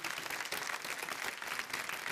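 Loud, dense applause for a singer fills the whole stretch as a steady wash of clapping from a large audience at a televised Indian music show, Bharat Ka Amrit Kalash.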